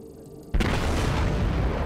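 Battleship shells from a World of Warships game strike a target: silence breaks into a sudden loud boom about half a second in, followed by a sustained roaring rumble of explosions and debris.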